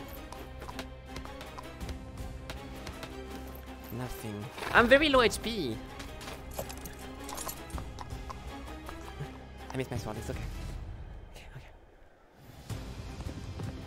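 Horse hooves clip-clopping in the video game Hellsplit: Arena, a steady trotting rhythm under frequent talking, with a brief louder burst of other game sounds partway through.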